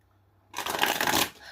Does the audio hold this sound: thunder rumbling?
no